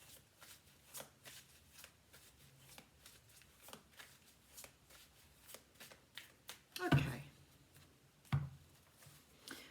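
Cards being riffled and shuffled again and again in soft, rapid bursts, ending with a louder snap of the deck, while a voice talks quietly in the background.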